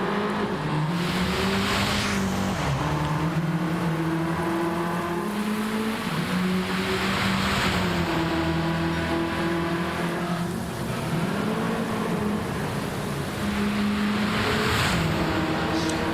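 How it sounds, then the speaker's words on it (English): An Alpine A110 2017 race car in a video game laps Suzuka in soaking rain, its engine note climbing and dropping through gear changes over a constant hiss of spray and rain. "Suzuka Alpine A110 2017 model, soaking rain."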